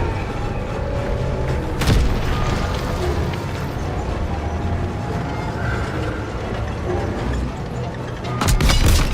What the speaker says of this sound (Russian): Панцирь бьет по нам справа!